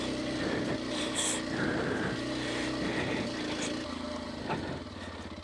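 Drone hovering and trailing behind a rider on a trail by snow and water, a steady buzzing propeller drone held under low engine and wind rumble throughout.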